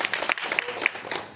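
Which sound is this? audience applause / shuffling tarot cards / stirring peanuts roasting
audience applause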